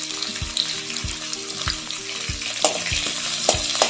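Onion and curry leaves frying in a pan for a Konkani raw mango curry, a steady close sizzle broken by repeated rhythmic taps of a spatula against the pan.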